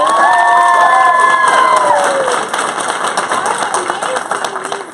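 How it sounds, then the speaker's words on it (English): An audience at a school drama production cheers and applauds loudly, with whoops and a few high whistles at first, then the noise eases into scattered clapping and shouts. "a quick round of applause to Light and Sound"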